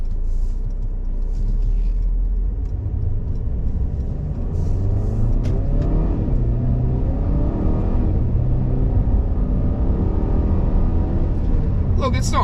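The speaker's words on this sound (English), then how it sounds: "So we're just going to go and check out the acceleration and see how this thing really goes" A 2019 Mercedes-Benz GLC 200 accelerating, heard from inside the cabin as a steady engine rumble and road noise that rises in pitch through the gears, with people talking over it.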